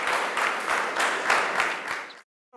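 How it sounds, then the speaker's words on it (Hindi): Audience applause in a lecture hall, a dense burst of many hands clapping at close range for about two seconds, then stopping abruptly into near silence. "ताली बजा सकते हैं?"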